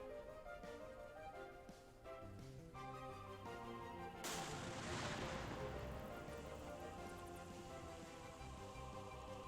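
A loud explosion bursts in at about four seconds, a broad noisy blast that rolls out and decays over several seconds on top of steady music, after arrows are fired toward a corridor in a Minecraft-style roleplay.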